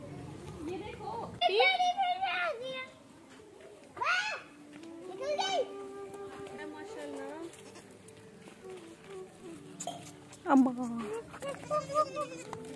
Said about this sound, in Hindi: ये बकरा है क्या बकरी है? दोनों बकरी है